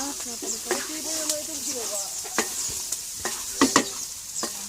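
Dinuguan, pork blood stew, hisses and sizzles in a hot pan as a utensil scrapes and stirs in sharp irregular clacks, with soft voices chatting nearby.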